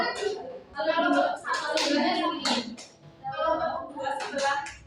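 A class of schoolchildren clapping hands in a counting game during a practice lesson, bursts of claps in groups mixed with the teacher's voice calling out the count.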